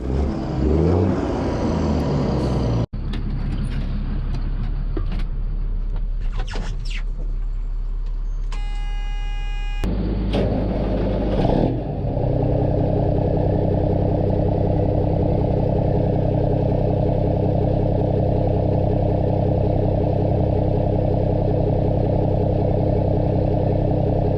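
A Mack truck hauling retaining wall blocks on a gravel job site, its engine loud and steady as it drives, with a few clanks and knocks early on before the drone settles into a continuous rumble.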